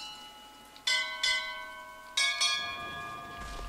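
Bells ring in the BioShock Infinite video game, four loud struck bell tones in two pairs with long shimmering decays over a quiet background.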